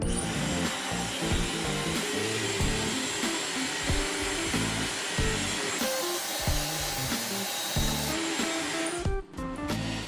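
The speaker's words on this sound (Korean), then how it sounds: "시끄러울 수도 있어요. 드라이기 때문에." A hair dryer roars steadily up close for several seconds, the whooshing airflow shifting slightly as it moves, before briefly cutting out near the end.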